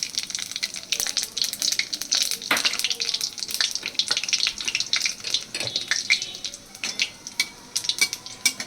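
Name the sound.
black cumin and dried chillies frying in oil in a wok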